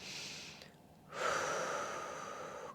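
A slow, deep breath drawn in during a seated stretching routine, soft and close, following a brief quieter pause and then a steady, airy inhale that fills the rest of the moment.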